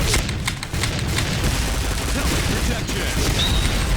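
Rapid, dense volleys of game explosions and bursts of gunfire crackle almost without pause, a loud continuous barrage of distant and near booms in a Thai team battle match.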